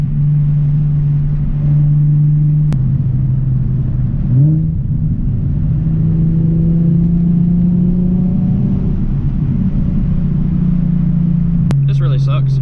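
A Nissan 370Z's Greddy aftermarket exhaust drones with a steady low hum at about 80 mph, its pitch shifting slightly, while a voice talks over it.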